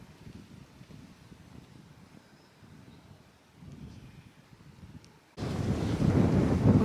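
Steady cool morning wind in rural Portugal rushes and buffets a nearby microphone with a low rumble, then grows suddenly louder and harsher near the end.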